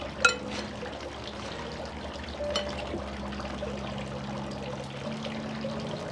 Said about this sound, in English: pick up my cake, dip it, give it a good bath in the strawberry syrup